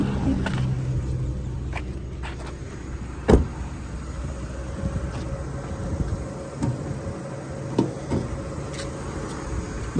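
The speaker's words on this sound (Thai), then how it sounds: "ฟังเสียงเครื่องกัน" A sedan's engine idles steadily in a low, even hum, with a few sharp knocks and clicks nearby and no talking.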